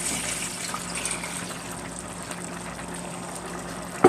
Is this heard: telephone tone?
no